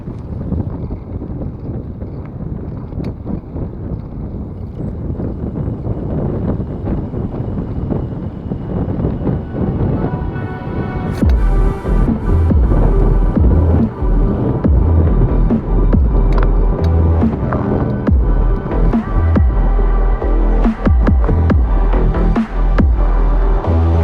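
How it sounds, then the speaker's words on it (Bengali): Strong stormy wind roars into the microphone of a mountain bike ride heading straight into the gusts along a rail line project site in Bangladesh; a steady loud rush that grows heavier and more buffeting partway through, with no talk. "এখানে পুরো ঝড়ের মতোই বাতাস হচ্ছে"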